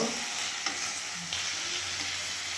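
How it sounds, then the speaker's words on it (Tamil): Tomatoes, mint and coriander sautéed and stirred in a pan, a steady close sizzle with occasional scraping stir strokes throughout, no talk. "நல்லா வதக்கணுங்க ஏன்னா இதை அரைக்கணும் அதுக்காக நல்லா வதக்கிடுங்க"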